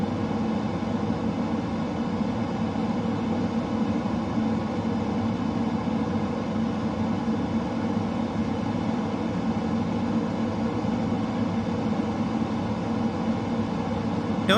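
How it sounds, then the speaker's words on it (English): Jet afterburners roaring in Microsoft Flight Simulator 2020: a loud, constant, broadband rush that holds steady with no breaks and no talking. "there go the afterburners."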